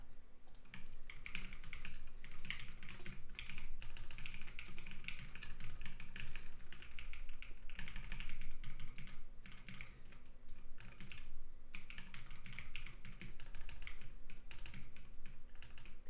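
Fast, continuous typing on a computer keyboard, with dense clusters of key clicks running throughout at a moderate, close level with no talking.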